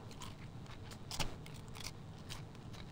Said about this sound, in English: Let me have a taste of your salmon.